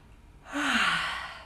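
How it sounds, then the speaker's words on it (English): One long, expressive breath pushed out through the mouth during a restorative yoga session, a breathy sigh that swells and then fades, close and alone. "Big expressive breaths through the mouth"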